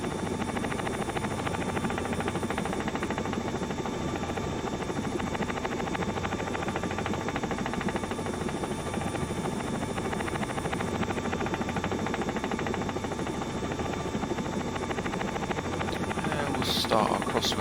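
A simulated helicopter runs steadily in a flight simulator, a loud, even rotor drone with a buzzing whine that holds for the whole stretch, and it stays close and unbroken throughout.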